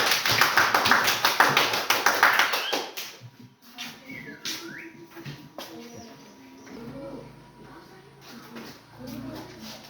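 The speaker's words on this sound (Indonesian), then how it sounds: "Tepuk tangan dulu untuk kelompok" A classroom of sixth-grade students claps for a group for about three seconds, a loud, dense burst of many hands that stops abruptly, followed by quieter room noise and talk.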